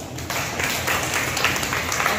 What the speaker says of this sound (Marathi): टाळ्या वाजा त्याला एकदा